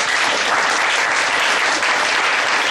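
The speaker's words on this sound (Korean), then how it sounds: "그 두 분께 일단 박수를 한 번 더." An audience at a Catholic University vice-president meeting claps steadily and loudly, a dense wash of many hands that carries on without a break.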